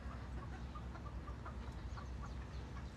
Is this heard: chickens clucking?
yes